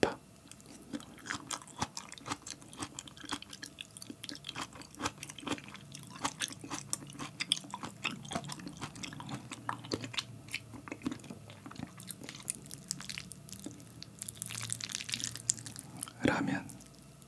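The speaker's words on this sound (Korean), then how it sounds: "순대볶음을 먹어보도록 하겠습니다." Chewing of stir-fried Korean blood sausage (sundae) with onion, close and intimate, with soft repeated bites, crunches and wet mouth sounds at an irregular rhythm, and faint whispered talk in places.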